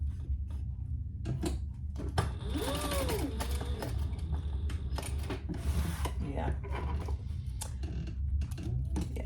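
A sewing machine runs a back stitch over a wallet seam, its fast steady needle chatter humming close and continuous, with brief mechanical clicks as the fabric is turned while a person talks over it.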